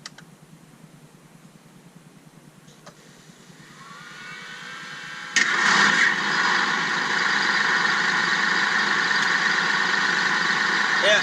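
A Tamiya 1/16 scale RC M551 Sheridan tank's simulated engine starts up with a sudden loud burst, then settles into a steady rumbling idle after a quieter electronic lead-in.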